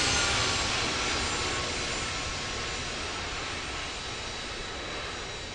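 A jet airliner takes off at Hurghada airport, its engines a loud, steady broadband roar that holds close and strong throughout, easing only slightly toward the end with no voices present.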